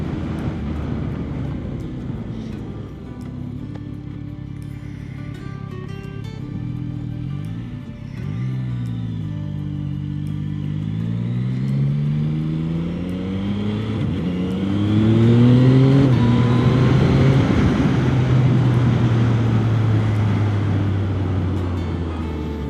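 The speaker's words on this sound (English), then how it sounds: "good bit of engine and airbox noise coming from it, not to mention the exhaust for the Acra as well" Close-up 2025 Yamaha XSR900 GP engine revving through gear changes during a race, with rising and falling pitch, airbox intake roar and a loud Akrapovic exhaust note, steady and continuous.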